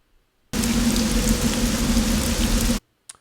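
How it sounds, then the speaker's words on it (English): Steady exterior rain ambience loop, a dense even hiss of falling rain starting abruptly and cutting off after a couple of seconds, surrounded by silence. "It's a rain loop."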